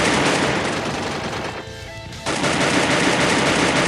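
Rapid automatic gunfire in the mobile battle-royale game Free Fire rattles loud and close as a dense continuous burst, pausing briefly before resuming, with no talk over it.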